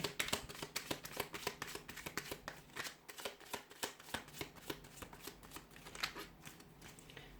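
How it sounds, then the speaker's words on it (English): Tarot cards are shuffled close up, a rapid run of crisp flicks and riffles with no one speaking. "Let's give the cards a shuffle and see what messages they have for you here."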